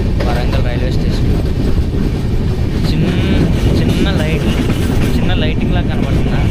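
A passenger train runs on a curve near Warangal railway station, its steady rumble and rattle loud and continuous throughout, with wind buffeting the microphone and a voice talking over it.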